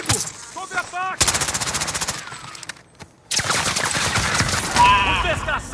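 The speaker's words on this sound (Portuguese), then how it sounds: "Os desgraçados estão atirando em mim!" Rapid automatic gunfire in Call of Duty: Modern Warfare, long dense bursts of shots close up and loud, broken by short pauses, with players' voices shouting between and over the shooting.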